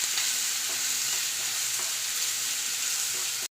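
Crushed green chilies stirred into a chickpea mixture frying in a pan, a loud, steady hiss of oil with soft scraping of the spoon, then an abrupt stop.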